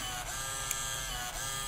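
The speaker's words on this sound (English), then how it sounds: "At this point, the printer will come into play" A printer prints out values as a steady, even mechanical hum and whir, with a faint tick partway through, continuous and moderately quiet with no talking.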